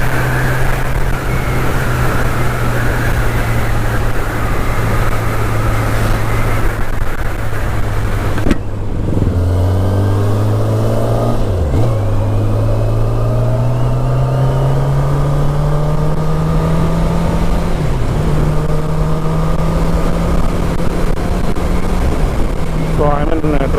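A Kawasaki ZX-10R motorcycle rides at speed, its engine drone rising and shifting under loud, steady wind roar that fills the whole stretch, heard close from the rider's position while he talks over it.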